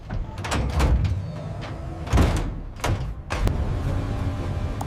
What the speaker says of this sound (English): The doors close.